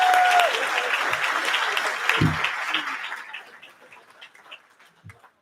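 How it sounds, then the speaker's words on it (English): An evening fundraiser audience applauds its sponsors, full crowd clapping at first that thins and fades to scattered claps and near quiet by the end. "So big round of applause for all these folks too."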